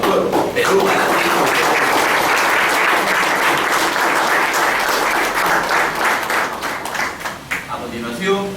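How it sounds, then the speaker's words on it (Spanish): Students at a judicial academy event in Tumbes give a loud, sustained round of applause that thins toward the end as a voice begins speaking. "brindemos un fuerte aplauso"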